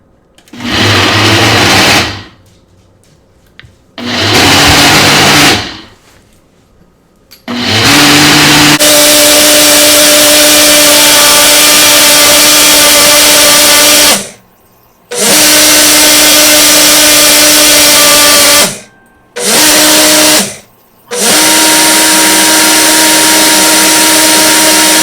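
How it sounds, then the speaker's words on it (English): Loud blender whirring as it mixes a smoothie with kombucha and ginger, running in several bursts separated by short pauses, then holding a long, steady high-pitched roar close by. "And there we go, it has blended."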